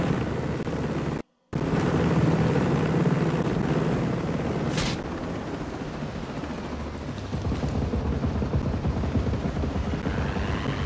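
Helicopter in the video game Ghost Recon Breakpoint, a continuous rotor and engine drone that is loud and close, with a brief dropout near the start and a sharp burst partway through.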